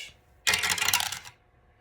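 Dice tumble and rattle across a hard surface for just under a second during a budget savings challenge, a close, bright clatter that stops abruptly, with quiet before and after.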